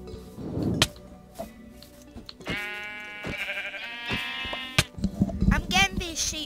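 Sheep in the Minecraft video game bleat several times in short wavering calls, mixed with clicks and other game noises while players talk.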